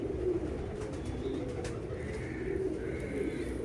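A female pigeon coos softly nearby, giving a few low, rolling coos against a quiet background.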